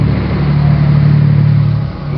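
Inside a truck-driving game, a Scania 143H truck engine fitted with a more powerful 850-horsepower motor roars loudly and steadily with a deep, sustained rumble, briefly easing near the end.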